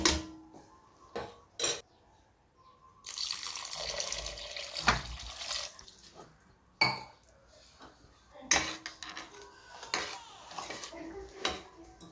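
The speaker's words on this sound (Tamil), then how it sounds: "தேவையான அளவு தண்ணி ஊற்றிக்கங்க" Water is poured into a pot of spicy Chettinad fish curry (meen kuzhambu) in a home kitchen, with splashing bursts and sharp metallic clanks of vessels and utensils between quieter stretches.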